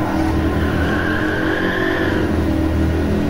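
A Volkswagen Golf VII GTI with its 2.0-litre 16V TSI engine spins its tyres in Gran Turismo 7, a loud constant screech of wheelspin over a steady engine roar, heard from inside the car.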